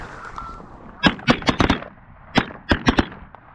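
Repeated shotgun blasts ring out during a goose hunt, a rapid volley of about five shots followed by a second burst of several more, loud and close, with faint voices in the background.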